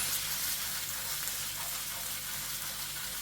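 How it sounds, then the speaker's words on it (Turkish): Liver fries in a pan with paprika, chili flakes and cumin, a loud, continuous close sizzle and hiss that stays even as the pan is shaken. "Tavamızı sallıyoruz."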